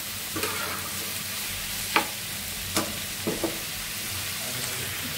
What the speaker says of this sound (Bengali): এটা আমার চাল কুমড়া ভাজি করতেছে আর ভাজি করছি পটল বেগুন।